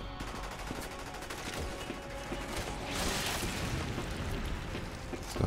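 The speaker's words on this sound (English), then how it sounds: "Fuck you, sniper rifle." Sniper rifle fire and other gunfire in the video game Resident Evil 6 crackle as a continuous, rattling barrage of shots mixed with mechanical clatter, moderately loud and steady throughout.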